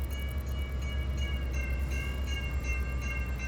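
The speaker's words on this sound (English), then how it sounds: "is it doing the horn for the level crossing?" In the Trainz Plus railway simulator, a long train rumbles past a level crossing with a steady low roar and a sustained multi-tone horn sounding over it, loud and continuous throughout.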